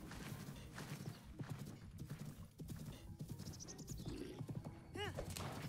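Horse hooves clopping in Zelda: Breath of the Wild, with a sharp whinny near the end, heard under game music while a player talks excitedly.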